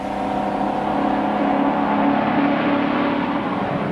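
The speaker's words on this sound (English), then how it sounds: "I'm driving a white truck marked Dollar Van in Storage, loaded with dangerous killers." Steady, continuous engine drone of a white 1941-era delivery truck cruising along a highway, a loud unbroken hum with no voices over it.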